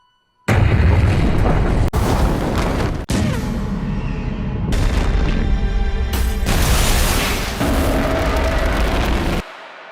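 Explosion from the film Oppenheimer: a sudden loud blast bursts in after silence, then a sustained roaring rumble with heavy cracks and booms rolling on for about nine seconds before cutting out.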